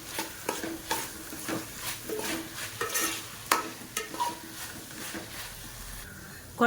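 Mutton and green chillies being stir-fried in a pan for nonbu kanji, with a spoon repeatedly scraping and stirring over a steady close sizzle.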